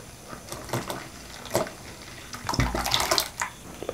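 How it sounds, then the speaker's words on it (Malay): Water poured into a 3.6-litre container of blended onion water, with splashing, gurgling bursts that start intermittent and grow fuller and steadier toward the end, heard close up. "kita air yang 1 liter ni tadi kita campurkan ke dalam air bawang ni"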